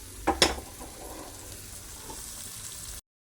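Sardines fry in a pan with a continuous crackling sizzle, a few sharp pops near the start, then a steady hiss before it cuts off abruptly.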